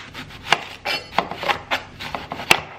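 A knife chops food on a cutting board in a home kitchen during baking prep, with about eight close, sharp strikes at an uneven, unhurried pace and soft scraping between them, no voices.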